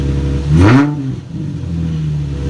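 A Nissan 350Z fitted with a Megan Racing exhaust and test pipe gives one sharp, loud rev that climbs and falls back within about a second, then settles into a steady, rumbling idle, close by with no talking.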